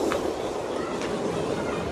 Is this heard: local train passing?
yes